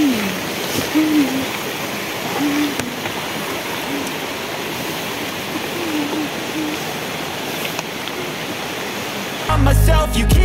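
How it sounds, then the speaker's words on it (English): Steady rain falls on a rural farm road near a bridge, a constant broad hiss with faint bird hoots over it, ending in a brief louder burst of music-like sound. "Kulit naman ang ulan na to."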